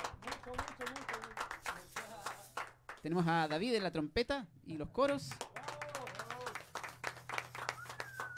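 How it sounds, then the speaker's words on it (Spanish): A small studio audience claps for a band between introductions, the scattered applause sitting under a presenter's voice that keeps talking throughout. "Un aplauso."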